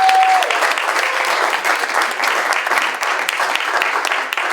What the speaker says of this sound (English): Give everybody who's in it a round of applause.